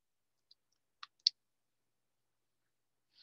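Sparse mouse clicks on a computer sound in a near-silent room, a few faint isolated ticks with one sharper click, quiet and close.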